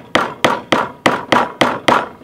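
A hand hammer drives a metal coring tool through a potato in seven sharp, evenly spaced strikes, each a loud close thwack that fades quickly before the next, with no talking.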